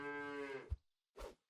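A cow moos in the Super Auto Pets video game, one drawn-out harmonic game-sound moo followed by a short thump and a brief second burst, clear and alone with no talk.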